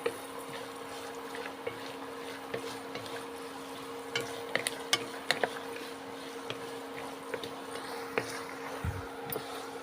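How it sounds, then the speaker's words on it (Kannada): Grated dry coconut frying in hot oil in a pan, a steady low sizzle with scattered small pops and crackles, heard close and fairly quiet over a faint background hum. "ಚೆನ್ನಾಗಿ ಎಣ್ಣೆಲಿ ಫ್ರೈ ಆಗಬೇಕು ಕೊಬ್ಬರಿನೂ"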